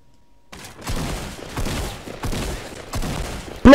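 Gunfire from a weapon in the video game Fortnite Battle Royale: several bursts of rapid shots in a row, loud and punchy, with short gaps between them.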